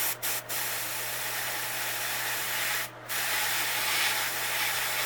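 Airbrush spray painting a realistic bluegill fishing lure, a steady near hiss of spray running throughout with a few brief gaps where the trigger releases.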